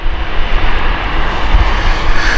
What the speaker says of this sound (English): we've got an arrival again. This time it's British Airways, Amsterdam flight, Airbus A320 with British Airways, BA Euroflyer